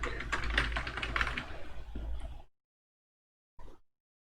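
Rapid keyboard typing on a computer, dense clicking keystrokes for about two and a half seconds, then silence and one short final burst of keys.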